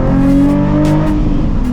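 Nissan 350Z engine revs loudly and steadily from inside the moving car, a dense continuous drone holding its pitch for under two seconds, with no voices over it.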